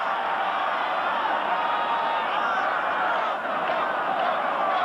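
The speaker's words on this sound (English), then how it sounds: "Listen to the crowd." Dense stadium crowd roaring steadily throughout at a 1984 Monday Night Football game, Seattle Seahawks at the Los Angeles Raiders, with broad noise, scattered whoops and cheers, loud and continuous with no break.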